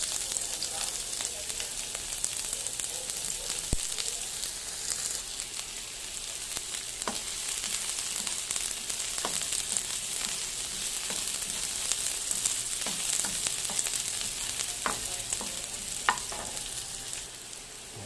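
Sliced onion sizzles steadily in hot oil in a pan as a home-style vegetable and shrimp dish is started, with occasional sharp clicks of a utensil stirring through the constant frying hiss.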